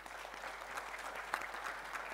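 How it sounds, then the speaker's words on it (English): A conference audience claps steadily at a distance for a panel, a soft even patter of applause with no voices over it. "A round of applause to the panelists"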